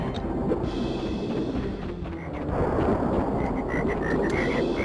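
A frog in Crash Bandicoot 3: Warped croaking in a quick run of short, repeated calls near the end, set over a loud, dense game soundtrack without talk.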